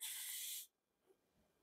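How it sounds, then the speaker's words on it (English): A handheld spray bottle spritzes water onto watermelon seeds in a burst of close hiss lasting over half a second, then cuts off to near silence. "you're going to spray this really, really well"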